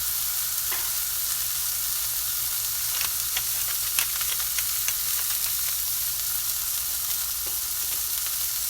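A steak sears in a pan filmed with a thin layer of olive oil over a medium-high flame, giving a steady, close sizzle and hiss with scattered small pops and crackles throughout.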